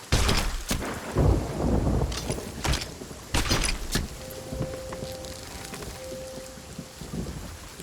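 A storm at sea in the pirate game Sea of Thieves: heavy thunder cracks and rolling rumbles over gusting wind and rain, loud at first and then easing, with a faint tone sounding twice near the end.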